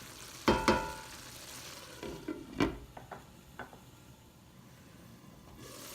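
Homemade Hamburger Helper pasta is stirred in a pan as the lid comes off, with a few sharp knocks and scrapes of a utensil against the cookware over a faint, steady simmer and no voices.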